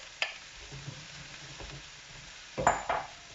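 Aubergine and mushrooms being stirred in a frying pan: a low, steady sizzle with soft scrapes of the utensil and a couple of louder stirring clatters near the end.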